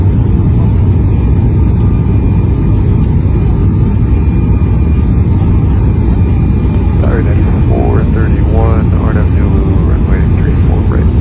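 Southwest Boeing 737 taking off from runway 25 at Denver, a loud, steady engine roar filling the whole stretch, with radio talk from the tower heard over it.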